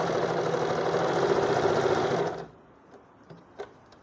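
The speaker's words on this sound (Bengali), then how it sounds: "ওই 1 ইঞ্চি কাপড়টাকে 1/4 ইঞ্চ দূরত্বে প্রথমে সেলাই করা হয়।" A sewing machine stitches a fabric seam in a fast, steady mechanical whir for about two and a half seconds, then stops, leaving a few faint clicks.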